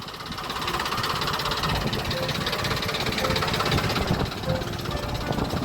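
A parked tractor's engine runs with a rough, knocking mid-range clatter, steady and fairly close, with outdoor noise around it and no speech.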